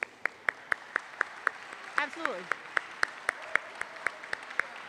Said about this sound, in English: give them a little clap of that